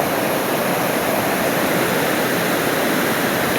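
A winter waterfall roars steadily and loudly up close, a dense unbroken rush of water with no voices over it.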